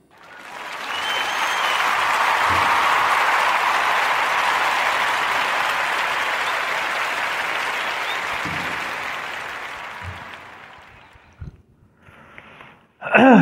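A podcast audience gives a round of applause for Carla Lyles, swelling into a long, dense wash of clapping that fades after about ten seconds, followed by faint sniffs and brief noises.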